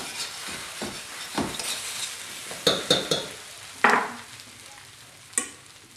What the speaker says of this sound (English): it's time now to mix in the ground beef with the potatoes